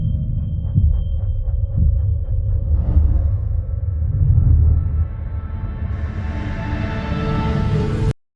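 A deep, rumbling heartbeat from a movie soundtrack pulses heavily through the subwoofer of a Trinnov Dolby Atmos demo. It is steady and booming, with a rising wash of sound building over the last few seconds before an abrupt cutoff.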